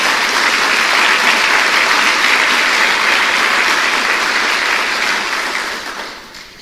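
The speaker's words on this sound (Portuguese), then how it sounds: "Dá uma salva de palmas ao Senhor." Church congregation applauding together, a loud, dense, sustained wash of clapping that holds steady before tapering off at the end.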